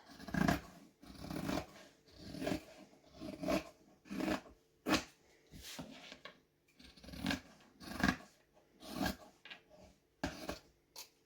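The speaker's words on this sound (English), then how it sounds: "But I think I cut faster with these scissors, than the other style." Scissors slicing thick Bazoku duck cotton canvas for a bag's outer panels, a repeated series of crisp rasping cuts about once a second, close and clear.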